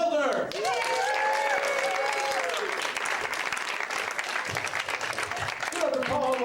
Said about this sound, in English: Please give a big round of applause for John Hilder.